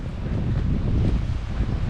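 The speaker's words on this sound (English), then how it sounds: "It's a little bit breezy" Breezy wind blows outdoors near Glencar waterfall in Ireland, a steady low rushing buffet across the microphone with no voices.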